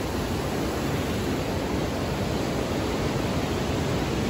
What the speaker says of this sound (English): The water's pouring out into the river.